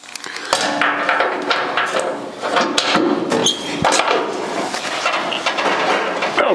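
Rear bumper of a 1956 Chrysler Windsor being bolted up, with a series of close metallic knocks, clunks and rattles of parts and tools in an irregular rhythm, fairly loud with no talk.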